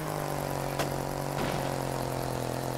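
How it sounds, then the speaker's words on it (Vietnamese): A vehicle engine in the building game Trailmakers runs at a high, steady pitch with a constant drone and faint shifts in tone, without any talk. "Động cơ nghe lớn quá. Nghe tua cao quá."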